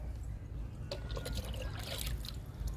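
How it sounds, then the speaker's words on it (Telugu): Liquid fertilizer is poured onto a potted pandanus plant, making a faint, close trickle and dribble with small splashes soaking into the soil. "ఈ మొక్క పండనస్ ప్లాంట్ లిక్విడ్ ఇస్తున్నాను"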